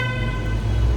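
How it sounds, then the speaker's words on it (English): Car horns on a busy New York City street, a sustained, loud honk blending with steady traffic drone, with no talking. "People are honking at me like I'm a tourist out here."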